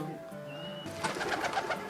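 A pigeon or dove coos in a soft, low throaty burst, close by, following a brief sustained tone and quiet background.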